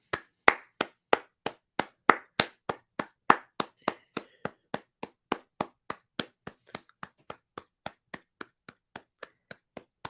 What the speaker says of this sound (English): That clapping probably doesn't sound good on the mic